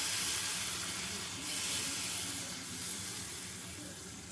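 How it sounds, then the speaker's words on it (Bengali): About a cup of hot water goes into frying masala for a Bengali katla fish curry, setting off a steady, close hiss and sizzle that swells and eases slightly as it is stirred. "আমি 1 কাপ মতো গরম জল দিয়ে মশলাটাকে নেড়ে চেড়ে নিব।"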